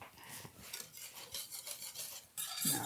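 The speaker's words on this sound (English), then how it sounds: "stir that up nicely" Unsweetened cocoa powder being stirred into a Guinness cake batter, a close rasping scrape of spoon against bowl in quick repeated strokes, getting louder at the end.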